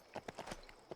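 Horse hooves clip-clop in the LEGO Lord of the Rings video game, five or six crisp, quiet hoof strikes in an uneven trotting rhythm over a second.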